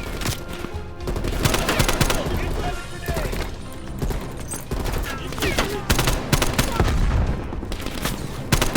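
Sustained automatic gunfire in Call of Duty: Black Ops Cold War rattles on continuously, loud and close, with dense overlapping shots and battlefield noise filling the whole stretch.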